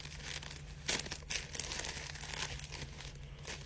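Plastic charcoal bag being cut open, giving crinkling, tearing rustles with a couple of sharper bursts near the start, close by, over a steady low mains-like hum.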